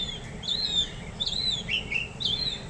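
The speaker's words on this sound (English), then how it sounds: "the birds are out chirping" Small birds chirp and tweet outdoors on a sunny day, several short high calls repeating over steady low background rumble, moderately faint.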